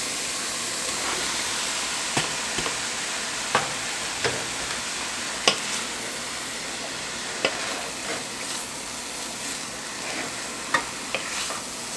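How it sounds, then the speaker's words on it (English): Ground beef sizzles steadily in a hot pan for shepherd's pie, a continuous close frying hiss broken by occasional stirring scrapes and clicks, with no talking. "we're going to go ahead and add our meat"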